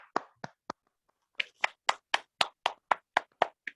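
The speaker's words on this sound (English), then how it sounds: "Can we have a huge round of applause for him once again?" Audience applause at an online Toastmasters meeting: three sharp claps, a short pause, then about ten evenly spaced, distinct claps, close and clear, with no talking over them.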